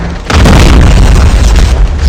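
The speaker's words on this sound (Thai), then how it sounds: "เสียงระเบิดแบบกระหับมาก" A loud, deep booming video game explosion bursts in suddenly and rumbles on heavily for a couple of seconds.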